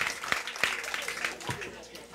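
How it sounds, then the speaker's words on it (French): An audience applauds at the official launch of a grape and fruit juice processing factory, with sparse, distinct claps and soft talk mixed in. "Applaudissez, s'il vous plaît."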